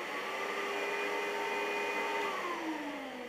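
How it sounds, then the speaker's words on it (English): A Shop-Vac vacuum running steadily while sucking down a vacuum-forming table, a loud continuous whine whose pitch slides downward as the suction takes hold. "So let me hook the vacuum up and show you how that runs"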